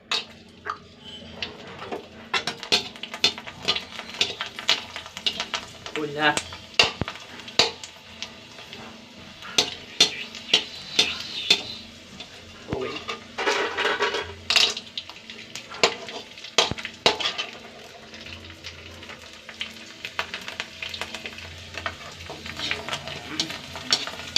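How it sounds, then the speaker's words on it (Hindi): Spice powder roasting in oil in a pan, with repeated scraping and stirring clicks from a spoon and a soft sizzle underneath, irregular and close, with no talk over it. "सारी पाउडर भून दी तुम्हारे भाई ने"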